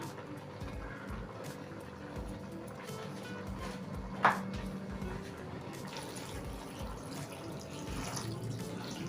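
Water pours steadily into a pot of plantain porridge for several seconds, a close, rushing splash with one brief clink partway through.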